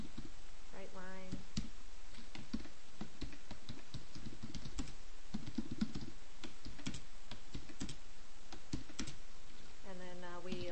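Code is typed on a computer keyboard in steady, close key clicks with irregular bursts and pauses, under a person talking.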